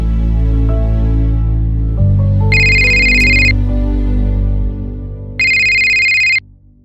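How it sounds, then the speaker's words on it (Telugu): A mobile phone rings with an incoming call, a loud repeating ringtone melody with two bursts of bright trilling tones over a sustained musical backing, no voices. "ఎత్తట్లేదు కాబట్టి రెండోసారి కాల్ చేశా"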